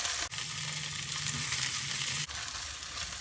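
Ginger, garlic and green chilli frying in a pan for an aloo palak dish, a loud, steady sizzle up close with two brief clatters of stirring.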